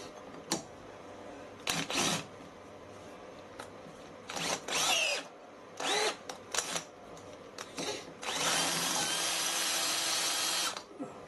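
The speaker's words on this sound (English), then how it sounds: "These long drills are going to prove very useful for jobs like this." A long drill bit bores through a metal casting in a workshop, coming in several short bursts of high whining and grinding and ending in one longer sustained run, with quiet gaps between bursts.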